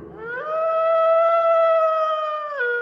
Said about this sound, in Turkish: O ışıktan gök tüylü ve gök yeleli erkek bir kurt çıktı.